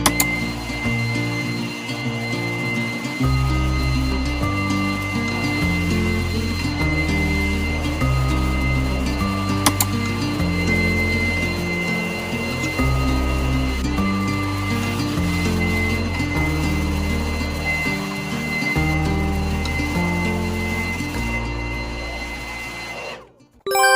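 A handheld leaf blower clearing out arborvitae in a garden bed, a loud continuous motorized roar whose pitch steps up and down as the throttle shifts, running steadily before cutting off at the end.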